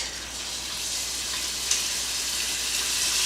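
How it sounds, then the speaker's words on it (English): Beef browning in fat inside an Instant Pot, a steady close hiss of sizzling with faint spits and crackles throughout. "Put in our cut meat, and we're going to brown it on all sides in that fat"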